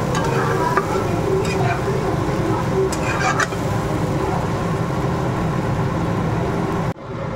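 Fish frying in a pan with cumin, ginger and chilli powder, a steady close sizzle with occasional stirring scrapes that runs unbroken before cutting off near the end.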